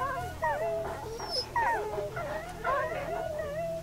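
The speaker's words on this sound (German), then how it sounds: "Mann, die winseln aber auch vor sich hin, die Köter." Several dogs whimper and whine in rising, wavering yelps over a low steady game hum in the video game Wasteland 2, with repeated plaintive cries close by.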